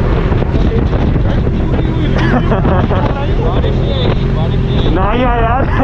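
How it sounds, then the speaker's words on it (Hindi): Strong gusting wind roars across the microphone on a motorcycle ride in stormy weather, loud and continuous, with the bike's engine faintly underneath and someone speaking briefly through it. "हवा भाई पूरी हिला दी सारी बाइक"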